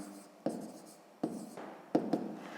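A pen scratches across paper in four short bursts, quick strokes separated by pauses, close and fairly quiet, as a math exercise answer is marked wrong.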